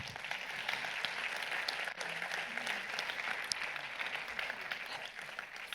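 Audience applause at the FIFF 2025 awards ceremony, steady and evenly sustained clapping from a crowd, fairly distant and soft, running alone without speech.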